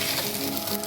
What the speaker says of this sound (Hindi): इसके अंदर मैं यहाँ सफ़ेद मिर्ची डालूँगी, मिर्ची पाउडर डालूँगी। तो इसको फ्राई करिए।